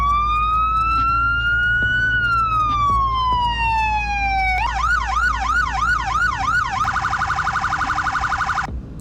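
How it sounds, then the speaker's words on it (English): A police car in the Roblox game Greenville runs through its siren modes. A loud, clean wail rises and falls slowly, then switches to a fast warbling yelp and finally to a rapid high-low pulsing tone, with no one speaking. "Here are the sirens."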